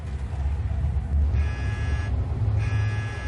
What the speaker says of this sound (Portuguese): Quando eu ouço esse alarme de explosão tocar, a coisa é bem séria.